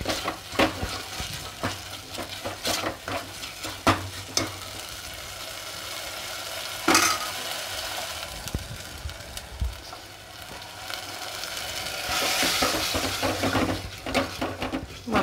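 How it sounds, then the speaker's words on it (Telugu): Ginger paste fries in oil for tomato rasam, a steady sizzle broken by repeated scraping and clinking as a spoon stirs the pan, close and fairly loud. "అది కూడా కలిసి ఇలాగ తిప్పుకోవాలి. పేస్ట్ అంతా చక్కగా ఆయిల్ వేగేటట్టు."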